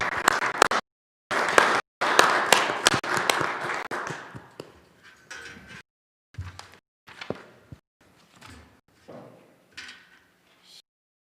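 Applause from the audience at an annual church meeting, a burst of clapping over the first few seconds that thins into scattered claps and quieter bumps and shuffles.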